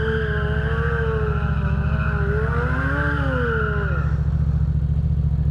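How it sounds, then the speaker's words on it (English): A motorcycle's tire spins during a stunt on a wet, waterlogged surface: a loud, close, continuous engine drone topped by a whining tone that rises, wavers and falls, then drops away. "Dang, bro, that tire is loud."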